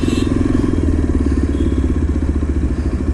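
A Yezdi Adventure motorcycle engine running on a test drive after its second service, a loud, steady, close thrumming pulse throughout with no pauses.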